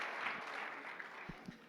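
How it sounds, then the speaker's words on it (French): Audience applause at a cosplay performance contest at a Japan Impact convention, a faint, steady patter of clapping from a crowd with a few sharper claps near the end. "On peut encore l'applaudir bien fort"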